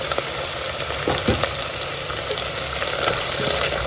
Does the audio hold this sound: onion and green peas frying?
yes